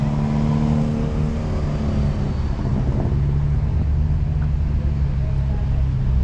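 Hyundai i30 car driving past at a track day, a steady loud engine and road rumble filling the whole stretch with no clear rise or fall.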